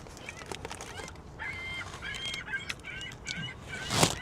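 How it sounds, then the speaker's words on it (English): Seagulls call near a Burger King outdoors, a flock squawking in repeated short, harsh cries at moderate distance, with one louder, closer squawk near the end amid faint background noise. "The gulls are making a few calls."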